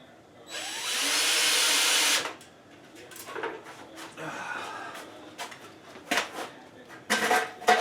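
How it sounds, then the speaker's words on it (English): A power drill driving screws during bathroom wiring of a tankless electric water heater whirs in one sustained burst lasting a couple of seconds, followed by scattered clicks, knocks and handling noises. "And hopefully I can get my drill up in there."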